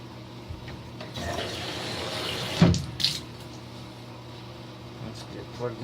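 Water is poured in to fill a custom PC cooling loop, a quiet trickling rush that swells briefly mid-way and ends with a few small clunks.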